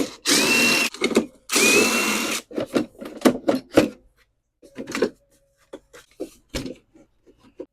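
A power tool loosens 3/8 bolts on the bottom cover of a Toro CCR2000E snowblower: two long loud whirring bursts, then a run of short sharp spins and clicks with pauses between them.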